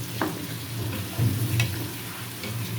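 Egg bhaji with ribbed gourd sizzles steadily in a pan over a gas stove while a spatula stirs it, with a few scraping knocks. A second dish cooks on the neighbouring burner. The sizzle stays close and moderately loud, with no speech.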